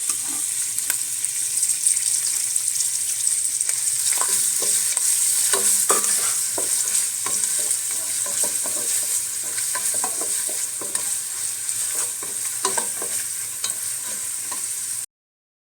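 Chopped onion frying in oil for paneer kushka, a steady close sizzle running throughout with occasional stirring scrapes, no talking.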